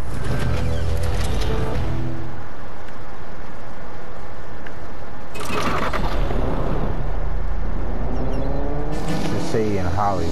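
A heavy truck rolls past outdoors, its low rumble swelling and fading along with a hiss of air brakes, while people talk over the noise throughout.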